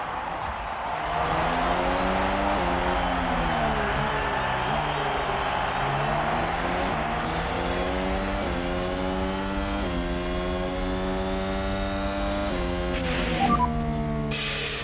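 Formula One cars roar away from the start of the Monaco Grand Prix in F1 Manager 22, layered engine notes climbing and shifting pitch as they accelerate together, loud and continuous for the whole stretch.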